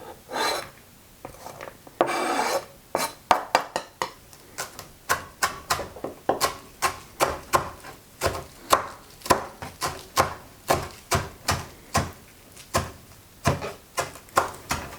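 Knife chopping onion on a board for stuffed tomatoes with rice, a close run of sharp, steady cuts that speeds into an even rhythm after a few slower strokes at the start; no talking.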